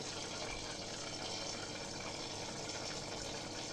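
A SunSun JY-03 internal skimmer filter in a 15-litre aquarium draws in water with a steady, even rushing hiss, constant and fairly close with no pauses and no talking.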